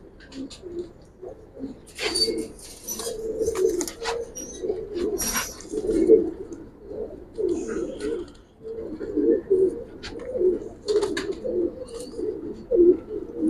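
Giribaz pigeons of an old lineage, including males, coo in repeated soft, throaty rolling phrases close by, with occasional sharper rustles and brief bursts between the calls.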